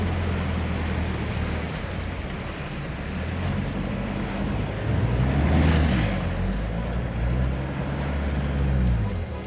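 A Mazda BT50 four-wheel drive ploughs through water on an island track, a steady low engine rumble mixed with continuous sloshing and splashing that swells mid-pass, close and loud without talk.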